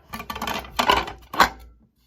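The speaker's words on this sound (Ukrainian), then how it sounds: "Я зараз зніму тарілку." Three clattering ceramic knocks and scrapes, close by, as an antique 1920s Budy porcelain plate painted with swans on a lake is handled and lifted, with no talking.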